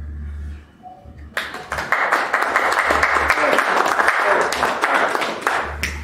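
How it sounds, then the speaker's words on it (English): Audience applause after a talk on local activism, a dense crowd of clapping that starts abruptly and holds steady and fairly loud for several seconds under a low background hum. "No, we already clapped."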